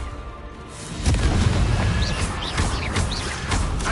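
A Confringo blasting curse goes off in Hogwarts Legacy: a sudden booming burst lands around the one-second mark and is followed by sustained rumbling blast noise with a few whooshing magical streaks, loud and close.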